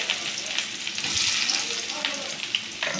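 Onions dropped into hot oil with crackling mustard seeds and dal sizzle loudly in a pan, with steady frying hiss and a few stirring scrapes close by.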